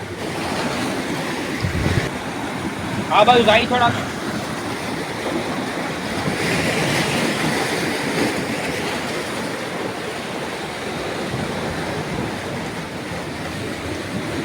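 Sea waves washing against the shore by a village, a steady broadband rush of surf that swells and recedes across the whole stretch, with a brief voice speaking near the start.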